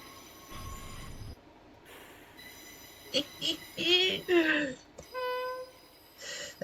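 Class 31 diesel locomotive in Train Simulator, its wheel flanges squealing on track in a loud, wavering high-pitched screech that swells and fades in bursts over a steady rail rumble.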